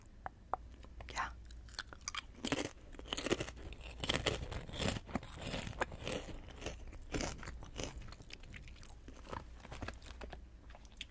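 Potato chips are crunched and chewed close to the microphone in ASMR style, with dense crisp bites and chewing that carry on throughout and some soft talk underneath.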